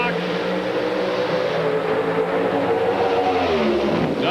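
NHRA Pro Stock drag race cars accelerate in a loud, sustained engine roar with rising harmonic tones across the whole stretch, heard from a distance over a trackside crowd.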